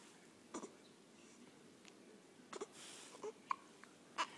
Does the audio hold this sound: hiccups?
yes